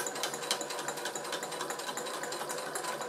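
A sewing machine stitches through thick, layered fabric for a vanity case, a steady fast needle chatter that runs close and loud without pause.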